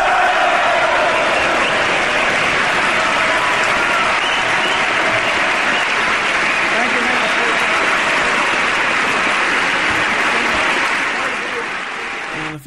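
Thunderous, sustained applause and a standing ovation greet the President of the United States in 2008. A large crowd claps densely and evenly for the whole stretch, then tapers slightly at the end.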